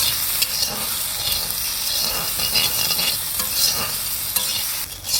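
Potatoes fry in a wok of hot oil with turmeric and salt, a dense continuous sizzle and hiss with scraping stirs running through, loud and close.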